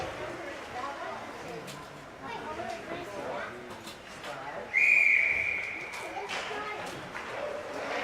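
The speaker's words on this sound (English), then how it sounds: "And whistled for an offsides." A referee's sharp whistle blast cuts through a youth 10U girls' ice hockey game at a Hibbing tournament, a single shrill tone lasting about a second over rink noise and a commentator's ongoing talk.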